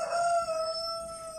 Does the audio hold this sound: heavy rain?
no